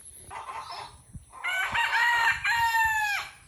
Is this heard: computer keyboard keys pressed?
no